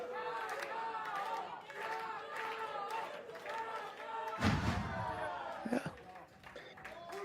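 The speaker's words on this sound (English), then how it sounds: "Then the crowd going." Wrestling event crowd roaring and cheering after a slam, a broad sustained swell of many voices with a heavy thud partway through and scattered shouts, fairly loud throughout.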